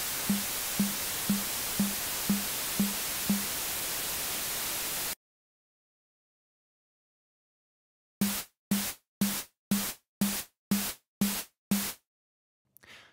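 Hissing white noise, gated by a tom drum, opens in short bursts on each drum hit, first over a constant hiss, then alone as eight sharp, evenly spaced noise blasts after silence.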